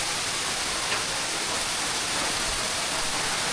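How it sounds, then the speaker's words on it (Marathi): Steady, dense rushing water roars continuously without a break, a broad hiss of a monsoon waterfall at Bhandardara filling the scene close by. "वरतून पडणारा जो धबधबा आहे आपण त्याचा आनंद या ठिकाणी घेऊ शकतो"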